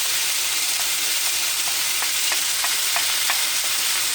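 Tomatoes and spices sizzle steadily in a hot pan, a dense continuous frying hiss with faint scraping taps of stirring.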